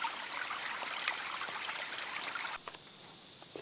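A natural stream rushes steadily down a winding rock water slide, a constant broad wash of flowing water that drops abruptly quieter near the end, leaving a softer trickle.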